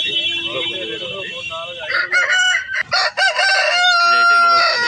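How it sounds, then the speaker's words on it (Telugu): A native rooster, about 24 inches tall and 3.5 kg, crows loudly and close by at a country chicken market in Anantapur, its long harmonic call rising over a busy background of other fowl. "చూడండి ఇంకో పుంజు కూడా ఉంది."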